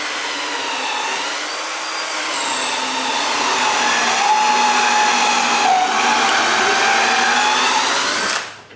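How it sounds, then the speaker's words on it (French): A power drill whines steadily while boring a screw hole into a workshop ceiling, a loud, close, continuous tone rising slightly in pitch midway and then cutting off abruptly at the end, with no voices. "il faut que je perce un trou pour la vis qui va le retenir au plafond"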